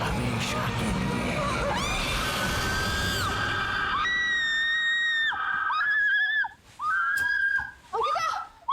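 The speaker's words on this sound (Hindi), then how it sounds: "क्यों चिल्लाई तुम?" A woman screaming in a Hindi horror film scene, a long loud shriek over a noisy backdrop, then sustained high wailing cries that break into shorter bursts toward the end.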